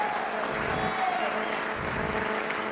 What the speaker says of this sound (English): So one more round of applause for Cesarina, please.